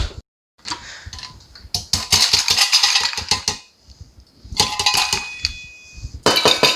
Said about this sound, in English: And we're going to throw in some ice cubes.